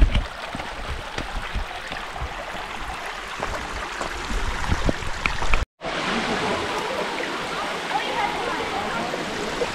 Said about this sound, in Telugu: ఫాల్స్ నుంచి వచ్చే వాటర్.